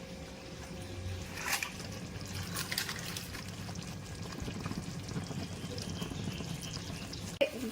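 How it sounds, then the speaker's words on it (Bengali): Chicken cooking down with a spice paste and chicken masala in a pan gives a steady, low, continuous sizzle and bubbling, with a couple of brief scraping touches and a sharp tap near the end. "মশলাটার সাথে চিকেনটাকে একটু কষিয়ে নিতে হবে।"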